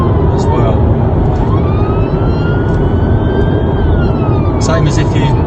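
A police car siren on a blue-light run wails continuously, its tone sliding up and down over heavy, steady engine and road roar from inside the moving vehicle.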